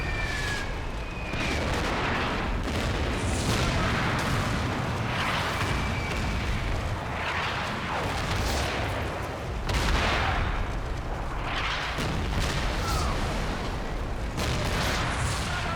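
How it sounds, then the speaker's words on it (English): Dense, continuous rumbling barrage of video game artillery fire, heavy booms and blasts overlapping without pause, with faint whistling shells now and then, loud throughout. "The artillery doesn't cause any casualties, but it does stop me from taking up early positions on the hill."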